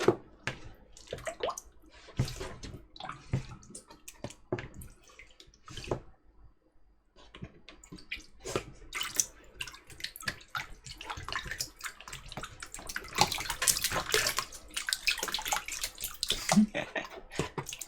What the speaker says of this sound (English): Oh yeah, splashing water